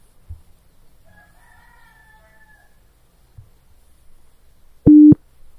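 A generated 300 Hz tone sounds alone as a short, loud, steady beep near the end, after near silence with faint low thumps.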